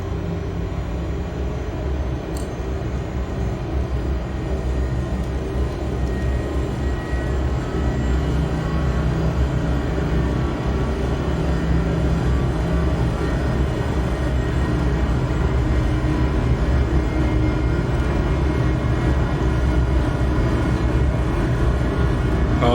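Learjet 35A jet engines roar steadily through a takeoff roll and climb, a loud, continuous broadband rumble heard from inside the aircraft with no break for the full length.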